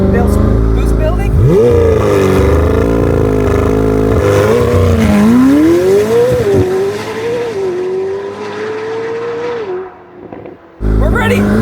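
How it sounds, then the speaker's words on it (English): A 2022 McLaren 765LT Spider's engine roars loudly and steadily on launch control, holding high revs with rising and dipping pitch before cutting off abruptly near the end, close and dominant. "hit launch control. It's gonna be awaiting full throttle, boost building"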